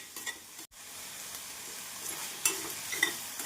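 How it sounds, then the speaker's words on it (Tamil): Onion cooking with ginger-garlic paste and curry leaves in a pan for chickpea kuzhambu, with a constant close sizzle, a brief cut in the sound early on, and a few light spoon scrapes. "இஞ்சி பூண்டு விழுது சேர்த்து நன்றாக வதக்கிய பின் கறிவேப்பிலை சேர்த்து விடலாம்."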